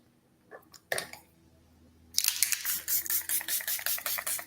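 Makeup setting spray mists onto a face in a rapid series of short, close, airy pumps, about a dozen spritzes in quick rhythm after a few faint clicks and handling sounds.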